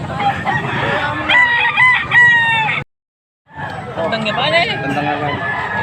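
Roosters crow loudly nearby amid clucking chickens at a rooster sale in Pampanga, with a brief silent cut before more crowing and voices resume.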